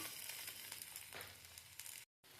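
Cauliflower stalk chorchori sizzling loudly in a pan, a dense continuous hiss with scraping swells as it is stirred, cutting out briefly near the end.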